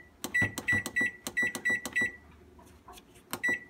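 A bread machine's control panel gives quick, bright electronic beeps as buttons are pressed to set a 2-pound loaf program, in rapid bursts of several beeps with short pauses between them.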